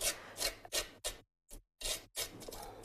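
Paint is scraped through a stencil in a craft studio, giving a series of close, dry rasping strokes, each about a quarter second long, broken by short pauses and one brief silence, with no talking.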